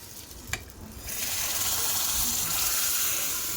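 Red chili tempering poured over spinach dal (palak varan) bursts into a loud, steady sizzle after a faint clink, frying hiss filling the rest of the moment without talk.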